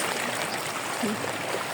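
Floodwater flowing up to a highway, a steady broadband rush and trickle of moving water heard close and continuous for a moment.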